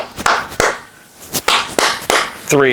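A series of sharp hand claps in a loose rhythm, fairly close, with a brief tonal sound at the end.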